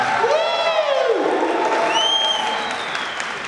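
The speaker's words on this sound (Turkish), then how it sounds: "Hayatımda aldığım en az alkış." Audience applause in a theatre at an award night, a steady wash of clapping with some cheering, while a voice briefly rises over it partway through.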